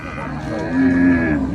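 A cow at a cattle and buffalo market gives a single loud, drawn-out moo close by, rising then tapering off over about a second.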